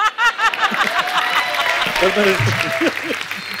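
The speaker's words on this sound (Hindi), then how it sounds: "जोरदार तालियां" Studio audience of The Kapil Sharma Show, a TV comedy show, bursts into applause mixed with chuckles, while voices keep talking and laughing over the steady clapping.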